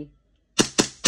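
Three sharp, evenly spaced cracks come from a WE 1911 airsoft pistol firing, each shot loud and close after a brief silence.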